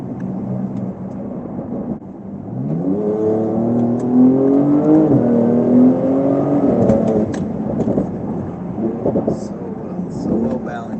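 A Porsche 992 Turbo S accelerating at partial throttle, its engine note climbing steadily in pitch and then dropping back as it shifts. Loud and close, with a voice talking over it.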